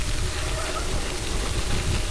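Heavy rain pelts down steadily during a gravel bike ride on the Danish North Sea coast cycle route, a dense, even hiss of drops filling the whole clip with no break.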